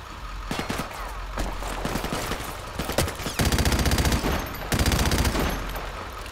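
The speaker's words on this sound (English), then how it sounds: "Oh my god, I'm being shot from everywhere." Gunfire in Modern Warfare Remastered, scattered single shots giving way to long rapid automatic bursts, loud and close, crackling over a steady background of battle noise.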